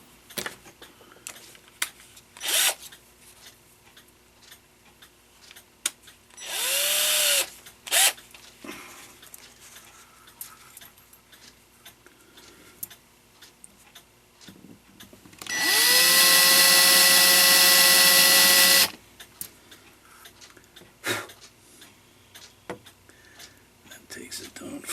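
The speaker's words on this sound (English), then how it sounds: "I'm gonna grind that off on the front with a little burr." A small burr on a power tool grinds metal on the front of a Regula 25 clock plate in two high whining bursts, one brief and one longer, amid quiet workshop clicks and handling sounds.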